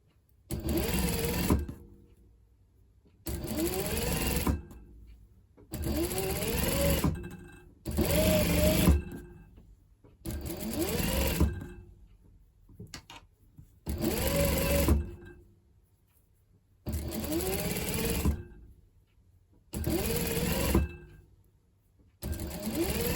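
A sewing machine runs long gathering stitches on a skirt in repeated bursts, about ten runs separated by short pauses, close and clear with a whirring mechanical hum.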